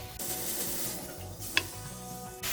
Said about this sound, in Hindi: जब वेजिटेबल्स को हम स्टर फ्राई कर रहे हैं